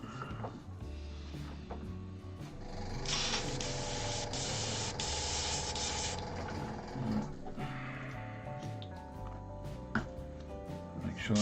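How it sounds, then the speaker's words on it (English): Airbrush compressor running for spray painting a Warhammer 40k Word Bearers Forgefiend model, a steady hiss that surges into a loud, bright spray burst for a few seconds, with motor hum underneath. "Hey Google, turn on the compressor."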